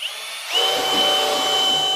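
A power drill fitted with a mixing attachment starts up and runs steadily with a high whirring whine, close and loud, while mixing in a kitchen making strawberry freezer jam, with no talking.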